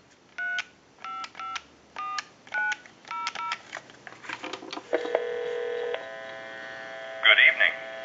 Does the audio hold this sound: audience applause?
no